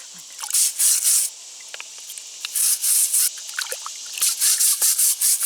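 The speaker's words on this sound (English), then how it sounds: "We're in the process of scrubbing the stones so we can get the dirt off" Natural stones scrubbed by hand in cool water to clear off dirt before building a hearth: bursts of wet, hissy rubbing come and go between quieter trickles and splashes, close up and with no talk.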